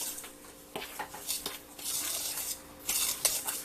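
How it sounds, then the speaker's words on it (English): Flour and sugar stirred together in a bowl with a utensil, producing irregular scraping and clinking taps against the bowl, near and moderately loud with no talk. "I'm gonna stir that together right quick."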